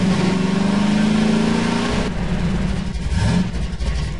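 A car driving in the Garry's Mod video game, its mid-pitched engine revving steadily and loud, then shifting down in tone partway through as it keeps running.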